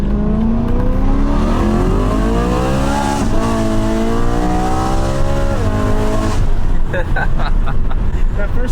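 BMW E92 M3 accelerating hard, its engine note rising in long sweeps with a sharp drop at a gear shift, loud and close inside the car, with people talking over it and crackling pops near the end.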